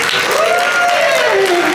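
Applause from a live audience for James Dempsey and the Breakpoints at a Swift conference, a dense continuous wash of clapping with a voice speaking over it.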